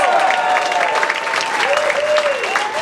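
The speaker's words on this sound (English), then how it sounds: "Can we have a round of applause?" A comedy club audience applauds and cheers, loud sustained clapping with whoops and a high sung or shouted tone running through it.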